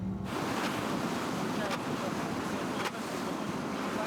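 Ukrainian Navy patrol boat under way at sea off the Black Sea coast, with a steady rush of wind and waves buffeting the microphone and no clear voices.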